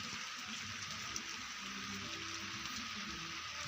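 Light rain falls in a steady, faint, even hiss, soft and continuous with no distinct drops and no voices, on a dark rainy day.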